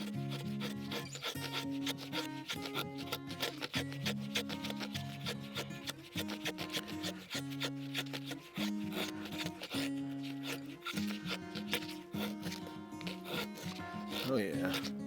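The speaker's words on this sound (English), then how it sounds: "say we had to make some tinder here on the quick" Condor Huron knife blade shaving wood to make tinder, repeated close scraping strokes with a rasping rhythm, heard alongside background music and someone talking.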